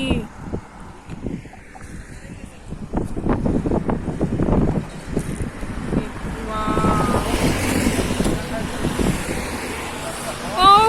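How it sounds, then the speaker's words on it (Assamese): Strong wind buffets the microphone throughout in thick fog, a steady roaring gust with a person talking intermittently over it. "ইমান বতাহ মাৰিছে"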